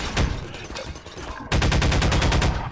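Automated turrets firing in the video game Half-Life 2: Episode 1, rapid rhythmic bursts of shots, a sparser stretch first and then a louder, tightly spaced stream of fire.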